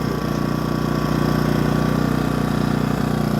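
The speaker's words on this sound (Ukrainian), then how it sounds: "так він працює в економ режимі" A Kvitka Pro SC2000i inverter generator runs in eco mode close by, a steady, even engine hum with a fine pulsing vibration and no change in pitch, heard alone without talk.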